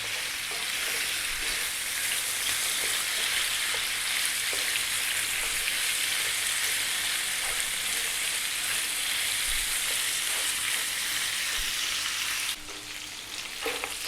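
Lamb meat browns in a pot for an Arab-style stew, making a loud, dense, continuous sizzle up close that drops in level near the end, with no talking.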